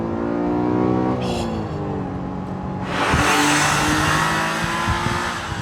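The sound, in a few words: Honda NSX engine revving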